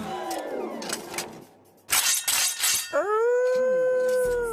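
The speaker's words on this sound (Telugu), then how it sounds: "అదేంటి సార్ శ్మశానంలో కుక్కరిచినట్టు?" A dog howls in a graveyard in a Telugu comedy film scene: a long, sustained, rising howl comes in partway through, following a stretch of loud, noisy sound.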